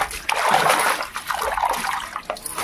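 Leafy greens are swished and washed in a container of water, a close, continuous splashing and sloshing with short trickles and uneven surges.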